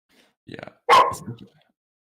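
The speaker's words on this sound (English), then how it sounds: "I apologize for the dogs." Belgian Malinois dogs bark a few times indoors at moderate distance, short sharp yaps followed by a louder bark burst, with a brief word spoken nearby.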